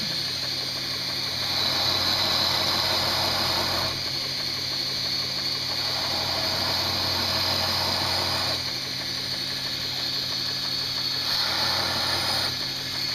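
A TW-90 belt grinder runs with its small wheel attachment, a contact wheel under an inch wide, spinning at high RPM. It makes a steady close mechanical whine and hum with a constant drone and faint ticking, and no one speaks.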